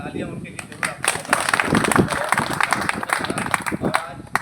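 Crowd claps at a Gandhi and Shastri birth anniversary gathering in Jamalpur, a short, dense burst of hand clapping rising after the first half second and holding steady, fairly close and loud, with voices mixed underneath.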